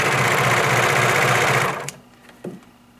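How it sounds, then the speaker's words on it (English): A serger motor whirs loudly and steadily for about two seconds, then cuts off abruptly, followed by a brief soft clunk. "You can serge without fabric on a serger."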